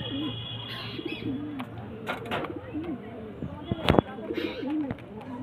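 Andhra pigeons coo repeatedly in soft rolling bursts, mixed with a few sharp chirps, wing rustles and a voice talking over them.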